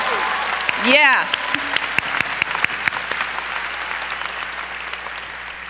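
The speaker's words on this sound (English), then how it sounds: "let's just take a moment to give a round of applause to those folks as well" A graduation crowd applauds families and coaches, clapping continuously beneath a speaker's voice, with a cheer near the start and sharp individual claps standing out.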